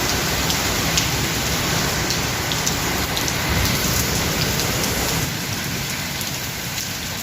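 A heavy downpour hammers steadily on surfaces in a continuous loud roar, easing slightly toward the end, with no one talking.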